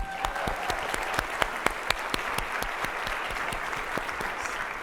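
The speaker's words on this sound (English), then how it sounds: "let's give Omar as well a big round of applause" Audience applause at a day-two welcome session: a steady, dense wash of clapping from a large crowd, with sharper individual claps popping out, sustained evenly throughout with no talking over it.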